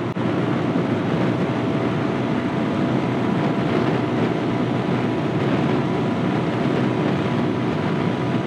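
Steady, loud engine drone with dense wind roar, unbroken throughout, from a motorcycle running at nearly 100 on the open road.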